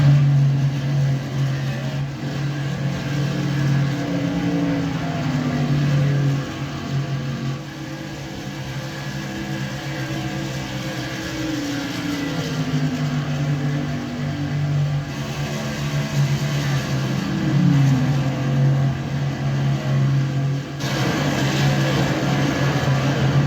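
Race truck engines in a Gander Outdoor Truck Series race at Charlotte: a loud, continuous engine drone with shifting pitch as the trucks rev and pass, steady throughout with no talking.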